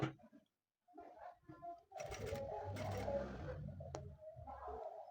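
A sewing machine stitches a silk frill in short rapid bursts of mechanical whirring with clicks between, fairly close and moderately loud, with brief pauses between runs.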